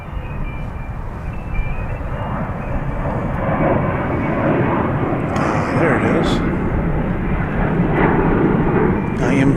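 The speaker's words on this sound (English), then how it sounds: "This will be an Airbus A220" Delta Airbus A220 airliner at DFW airport, a steady broadband engine roar that swells slightly partway through and holds loud to the end, with no talk over it.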